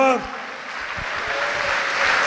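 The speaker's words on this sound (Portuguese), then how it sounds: "Vamos aplaudir o Senhor." Church congregation applauding after a sermon, a soft, even wash of clapping that builds slightly after a speaking voice cuts off at the start.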